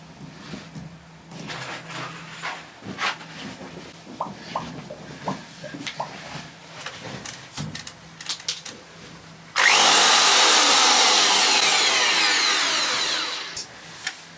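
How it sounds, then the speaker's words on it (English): Clattering and tapping of tool handling, then a two-speed power drill roars on loudly, drilling into a wall, and runs steadily for several seconds before easing off. "Difficult to drill those two because they're so close to the wall."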